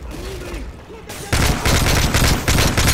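Sustained automatic gunfire erupts in a Call of Duty: Modern Warfare 3 firefight, loud rapid bursts taking over after a quieter opening with distant voices and whistling sounds.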